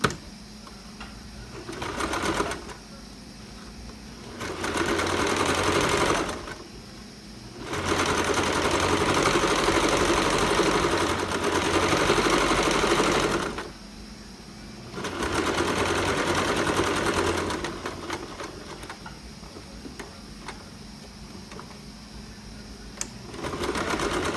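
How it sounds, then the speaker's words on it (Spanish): A sewing machine stitches a sport collar in several bursts of rapid, even mechanical chatter, each lasting a few seconds, separated by short pauses, loud and close with no talking. "Yo he cosido la parte superior del cuello"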